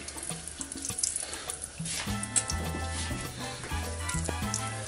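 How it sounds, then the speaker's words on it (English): Eggplant slices dipped in egg mixture sizzle and crackle as they go into hot oil in a pan, with a bubbling, watery fry sound throughout and a few clinks. "put it in the egg mixture. Let it drain off a little bit. And then right into the hot oil."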